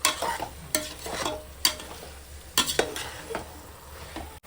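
Mushrooms sautéing in a pot for mushroom biryani, frying hiss broken by repeated loud scrapes and clinks of a spoon stirring against the metal, close and without talk.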